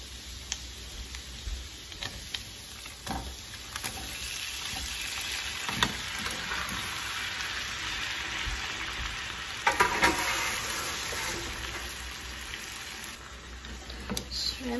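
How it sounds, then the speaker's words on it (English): Shrimp and chunky garlic sizzle steadily in a hot pan, with a continuous crackling fry, occasional stirring ticks and brief spikes of spattering. "And then I'll add the shrimp now."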